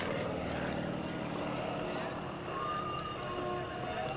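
Propeller drone of an aerobatic airplane flying at an air base open house air show, a steady, loud engine hum with a public-address voice talking over it throughout.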